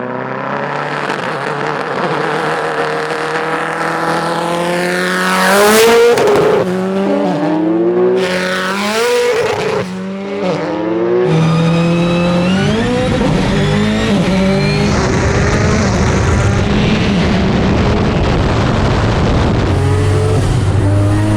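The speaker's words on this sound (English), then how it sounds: "next up for the second race, they're going to race from a roll." Two cars race from a rolling start, engines roaring loudly and climbing through gears in rising sweeps, with brief tire squeal and sustained high-revving acceleration close by.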